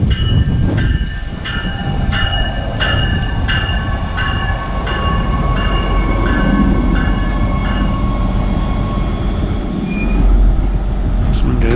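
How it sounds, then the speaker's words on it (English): A two-car River Line light rail train bound for Camden pulls into a New Jersey station with a loud, steady rumble and a repeating horn or bell pattern, near and continuous throughout. "Another train headed for Camden."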